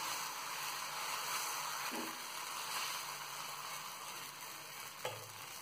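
Fermented ragi finger millet dosa batter sizzles on a hot pan as a steady, moderately quiet hiss, with a couple of faint clicks and a small knock near the end and no speech.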